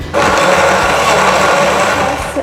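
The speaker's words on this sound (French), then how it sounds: "Maintenant, il ne vous reste plus qu'à bien mixer votre jus." A blender whirs steadily at high speed as juice for children is mixed, starting abruptly and running loud and close for a couple of seconds before briefly dipping at the end.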